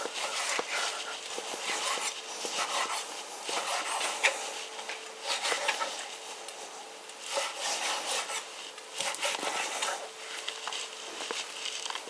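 A knife cuts meat into cubes for Hungarian goulash, producing a continuous run of close, rasping strokes and soft taps against a cutting board, with no speech over it.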